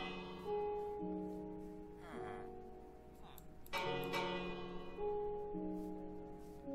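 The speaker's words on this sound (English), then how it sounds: "And now, let's see what happens when I ring the bell." A village bell rung in Minecraft sounds in a few bright metallic strikes over steady game background music, moderately loud and close, with no voices.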